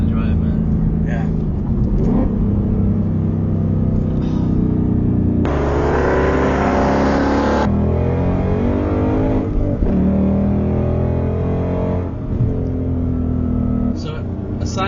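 Ford Mustang GT S550 driven hard on a road in Mexico, its engine revving loudly in repeated surges and shifts throughout, with people talking and laughing inside the car.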